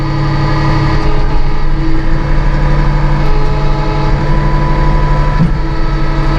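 Massey Ferguson 1835M compact tractor with eHydro transmission raising and dumping its loader bucket, its engine droning loud and steady up close with a constant hydraulic whine and no break in the noise.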